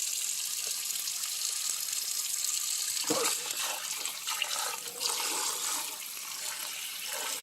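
Tap water runs steadily into a sink while a potato is washed under it, a close, continuous rushing splash that shifts slightly as the potato is handled.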